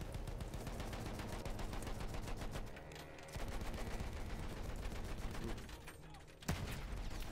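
Machine guns fire in the Battlefield 1 video game: loud, rapid, sustained bursts of gunfire with brief breaks near the middle and toward the end.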